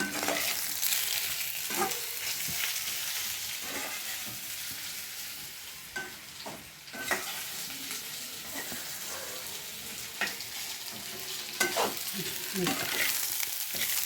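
Radish chutney fries in oil in a pan with a steady, dense sizzle that runs throughout, close and fairly loud, broken by occasional scrapes and stirs of a spoon.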